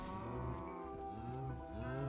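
Drawn-out, steady lowing of cows in a video game, continuous and fairly loud with layered overlapping moos.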